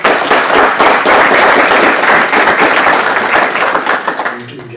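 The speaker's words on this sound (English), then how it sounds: "maybe we should give him a round of applause" A loud, dense round of applause from people gathered at a county legislature meeting, steady clapping for nearly five seconds before tapering off at the end.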